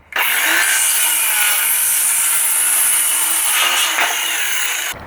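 A Ryobi One+ 18V cordless circular saw cuts straight through a larger piece of timber at a 0-degree setting, making a loud, continuous high-pitched whine and rasp for about five seconds before it winds down.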